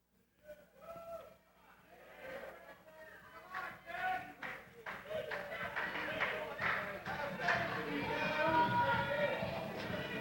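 Crowd noise in a wrestling arena in Holland, Michigan during a 1999 match, rising from scattered claps and shouts to a louder, steady roar of clapping and cheering, with a commentator talking over it throughout.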